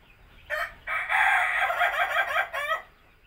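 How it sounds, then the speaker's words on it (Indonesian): A Pelung rooster crows in a long, loud, drawn-out call at close range, with a brief pause after an opening note and a rising-falling trailing end, heard alone without talk. "Kokok lagi ya. Suaramu kok enak."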